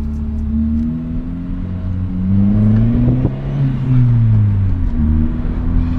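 Low-rev engine note from a Chevrolet Vectra GT sedan with a worn clutch: a steady, close droning hum whose pitch rises and falls gently, heard alone without talk.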